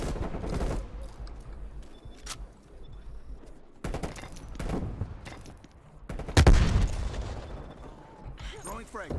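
Automatic gunfire in Black Ops Cold War on the Nuketown map, several sharp bursts and rapid shots separated by brief lulls, close and loud, with a heavy blast near the end.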